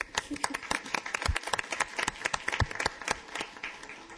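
Scattered clapping from attendees at a city council meeting, individual sharp claps in an uneven rhythm rather than a full ovation, sounding fairly close, with voices mixed in.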